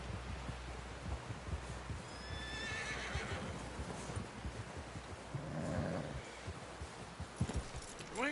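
A horse in a video game whinnies and its hooves clop at a walk, faint and low against a quiet outdoor backdrop, with no one talking.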